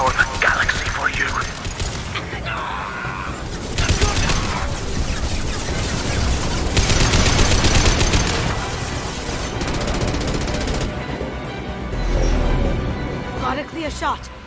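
Gunfire and impacts in the sci-fi shooter Mass Effect Legendary Edition, bursts of shots and thuds layered with game music and effects, with speech from characters running over much of it.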